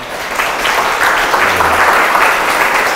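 An audience applauds a university professor after a science lecture, a steady, dense wash of clapping that stays loud throughout.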